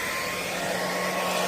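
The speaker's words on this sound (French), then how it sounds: "le fidèle sèche-cheveux." A hair dryer blows a steady, loud, continuous whoosh close up while drying paint on a scale model of a Suzuki Carry D12.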